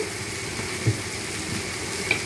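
Onion and tomato sautéing in a pan for a South Indian vanjaram fish curry, giving a quiet, steady sizzle with a couple of faint clinks and no talking.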